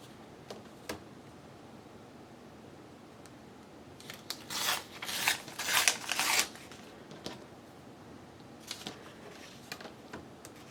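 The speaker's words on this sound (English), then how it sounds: "I need to tear this side too" Paper being torn by hand for a squirrel craft project, a few rough ripping bursts clustered together at close range, set between quieter stretches of light handling.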